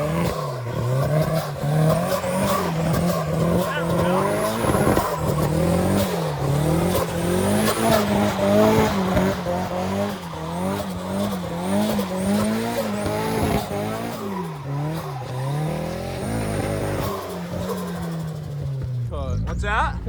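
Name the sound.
drift car engine hitting boost cut, cutting out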